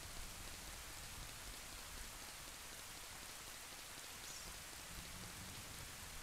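Steady rain in a Silent Hill mod of Zelda: Ocarina of Time, a continuous faint hiss of falling drops with no other sounds standing out.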